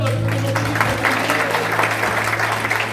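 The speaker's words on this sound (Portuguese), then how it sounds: "Vamos aplaudir ao Senhor." Worshippers at a church service applaud in praise of the Lord, a dense, continuous patter of clapping over a sustained low hum, fairly loud and even throughout.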